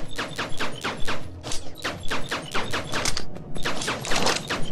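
Rapid bursts of assault rifle fire in the video game Eden Star, a dense run of sharp, loud shots in quick rhythmic clusters with brief pauses between volleys.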